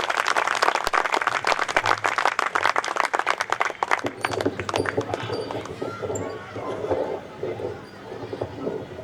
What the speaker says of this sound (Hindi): एक बार उनके स्वागत में भी आप पुनः तालियां बजाकर आह्वान